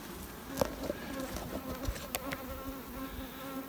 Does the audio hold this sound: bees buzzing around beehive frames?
yes